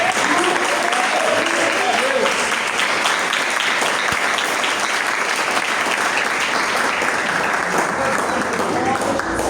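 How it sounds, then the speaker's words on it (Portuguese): Church congregation applauding, a dense, sustained roar of many hands clapping at close range for the whole stretch, steady and loud with no pause. "aplauda o nome do Senhor"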